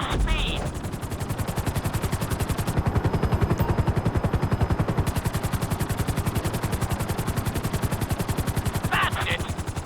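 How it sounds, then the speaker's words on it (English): Helicopter flying in the GTA V video game, a steady rapid rotor chop pounding continuously and loudly close by, with a few brief electronic game tones at the start and end. "we'll see how well you handle the chopper"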